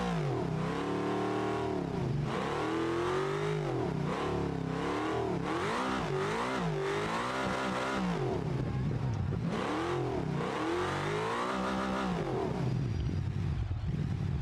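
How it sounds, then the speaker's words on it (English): A drift car's V8 in BeamNG screams loud and close, revving up and down in repeated surges without a break through the whole stretch. "Right now they just hear a screaming V8"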